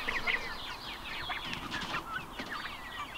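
A flock of turkeys keeps up dense, overlapping gobbling and clucking calls throughout, moderately close with no talking.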